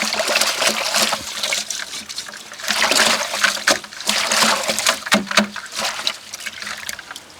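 Jamaican sarsaparilla roots are washed and scrubbed in water, giving a steady wet sloshing and trickling with splashy rustles throughout, close up and fairly loud.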